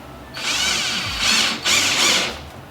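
A power drill drilling into a plastic liner whines in high-pitched bursts, running steadily, briefly easing off, then revving again, close and loud with no talking.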